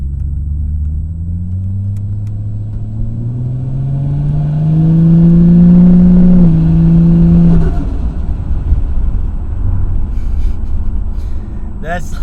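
A large sedan accelerates hard at about a quarter throttle. A deep, loud engine note rises in pitch over several seconds, peaks with a brief shift-like dip, then fades back to a low rumble, heard close up.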